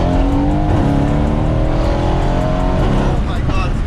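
A Mercedes-AMG W205 C63S V8 revs hard and loud right up close, its engine tone climbing and falling in rapid sweeps, with people talking excitedly over the roar.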